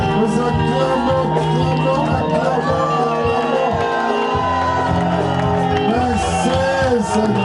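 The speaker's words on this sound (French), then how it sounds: "Nous acclamons." Wedding guests at a religious ceremony in Paris burst into loud, sustained cheering, whoops and shouts over a dense crowd hubbub, with music-like tonal layers running beneath the whole stretch.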